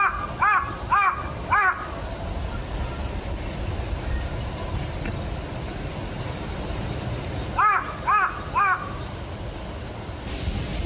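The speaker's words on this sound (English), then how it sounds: "A Japanese crow behind me." A Japanese crow caws in two clusters of three or four harsh calls, moderately near, over a steady hiss of outdoor ambience on a nature trail.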